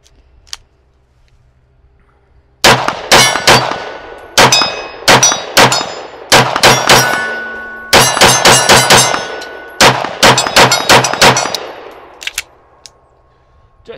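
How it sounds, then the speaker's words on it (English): Staccato P pistol rounds fired in rapid strings at steel targets, each shot a sharp crack followed by a ringing metallic clang, loud and close in several bursts with short pauses. "Let's see some rounds fly through this one."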